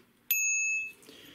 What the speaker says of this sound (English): A little bell so that you're compliant